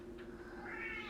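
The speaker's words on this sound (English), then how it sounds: "that's my cat, Jack," A cat gives a quiet, drawn-out meow near the end, over a faint steady hum, with no talking.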